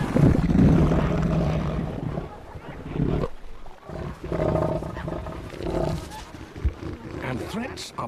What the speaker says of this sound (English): His roars warn other males to keep away from his property.